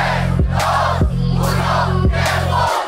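At a freestyle rap battle, a large crowd roars and cheers loudly and without a break, with a steady beat thumping underneath.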